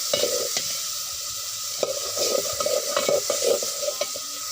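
Dried fish masala with garlic and green chilies sizzles steadily in a pan as a spatula scrapes and stirs it in short, repeated strokes, with no talking.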